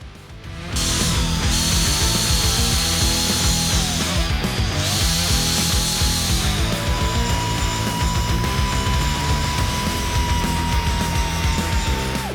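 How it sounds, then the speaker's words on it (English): A grinder works over a welded metal patch on a vehicle, a loud continuous high-pitched whine with a slowly shifting pitch and grinding roughness, running steadily for the full length without talk. "now we're just gonna hit it with a grinder"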